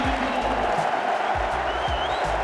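Chelsea fans at Stamford Bridge applauding Ashley Cole, a dense, loud wash of clapping and crowd noise that fills the whole stretch without a break.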